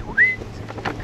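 A brief, high-pitched electronic whistle chirps once near the start, rising then holding, over a faint windy outdoor background.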